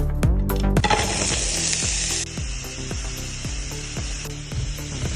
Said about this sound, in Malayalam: ചൂടായ പാനിൽ വെളിച്ചെണ്ണയും സവോളയും കുറച്ച് ഉപ്പും ചേർക്കാം